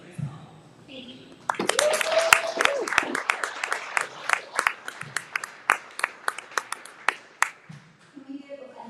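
An audience applauds the members at a fellowship showcase, with a burst of dense clapping that thins into scattered individual claps near the end, while a voice speaks over the start.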